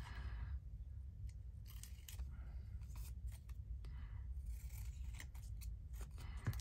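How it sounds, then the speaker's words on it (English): Fabric scissors snip through material at a craft table in a series of quiet, irregular crisp cuts over a low steady background hum. "I don't want to use my fabric scissors"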